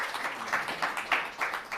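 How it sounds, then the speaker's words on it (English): An audience at a forum breaks into applause, a steady wash of many hands clapping in soft pulsing waves, moderately distant and without talk. "Let's give them a round of applause"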